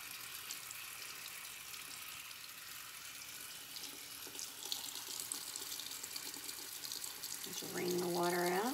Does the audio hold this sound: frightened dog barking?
no